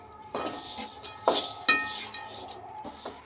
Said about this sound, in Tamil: நல்லா கருகாமல் லோ ஃப்ளேம்லேயே வச்சு இது பண்ணிட்டு கிண்டி விட்டுட்டே இருங்க